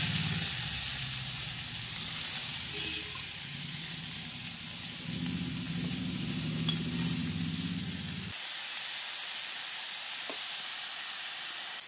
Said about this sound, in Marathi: कांदा परतून घेतलाय.